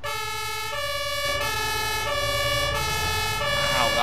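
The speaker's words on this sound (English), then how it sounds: "also you got sirens" A MAN TGS truck siren in Farming Simulator 22 wails continuously over a steady engine drone, loud and close, with pitch sweeping up and down throughout.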